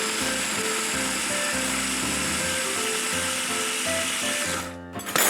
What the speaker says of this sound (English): this little mini food chopper